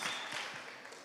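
Church congregation applauding during a sermon, a short burst of fairly faint clapping from a crowd that thins out over about a second.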